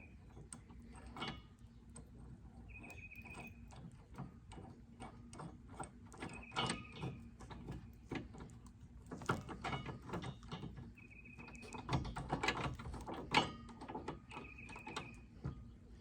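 A nut being tightened with a ratcheting tool while a CURT trailer hitch is fitted to a Ram ProMaster, producing bursts of quick metallic ratchet clicks and clanks at close range between short pauses.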